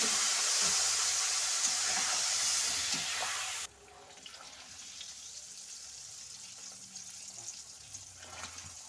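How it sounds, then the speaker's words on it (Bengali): Salted eggs fry in oil in a pan with a loud, steady sizzling hiss. The hiss drops suddenly to a quieter crackle that continues to the end. "এই তেলে আমি ডিমগুলো প্রথমে ভেজে নেব"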